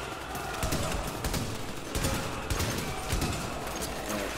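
Sustained machine gun fire in the video game The Division, rapid overlapping bursts that sound loud and dense and carry on without pause, with some gunfire rising in distinct waves.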